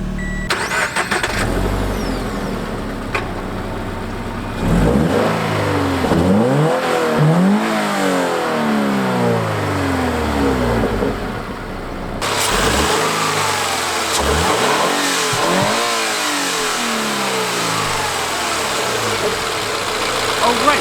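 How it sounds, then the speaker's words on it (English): A Toyota 86 with its 2-liter flat-4 boxer engine starts, then revs hard in several rising and falling bursts over a steady idle, loud and close throughout. "that was the sound of the 2-liter flat-4 or boxer engine with 205 horsepower"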